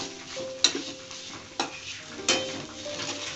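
Whole coriander, cinnamon, cloves and bay leaf roasting dry in a pan over a medium flame, a soft steady crackle broken by three sharp clinks of a spoon stirring against the pan.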